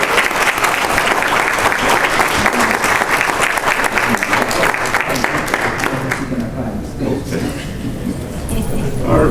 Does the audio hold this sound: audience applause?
yes